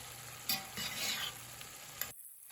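Ground beef and mixed vegetables sizzle in a pan with soy sauce and wine while a utensil stirs them, close and steady frying with a few scraping bursts and no talk.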